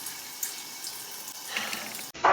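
Water running steadily from a bathroom sink tap for face washing, soft and constant, then a brief louder splash near the end.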